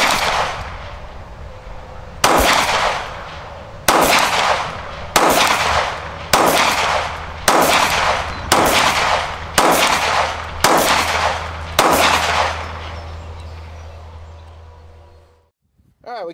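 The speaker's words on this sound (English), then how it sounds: "Let's fire 10 shots, see how well it groups." Ten sharp gunshots fired outdoors in daylight from a firearm fitted with an ADE Nuwa red dot sight, evenly spaced about a second apart, each loud crack followed by a brief decay over a low steady hum.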